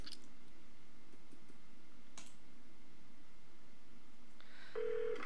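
A mobile phone is pulled out and used in the Saints Row video game, giving a few soft clicks and a short electronic beep tone at the end over a quiet, low game background hum.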